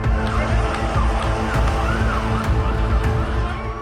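Fire brigade and ambulance sirens wail continuously across a city under attack, a dense, loud wash of overlapping siren tones over steady traffic and crowd noise.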